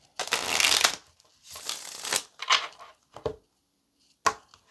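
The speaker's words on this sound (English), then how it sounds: "Let's get one more shuffle" Tarot cards being shuffled in bursts, a long riffling rustle followed by several shorter shuffles and a final quick snap, close and fairly quiet with no talk.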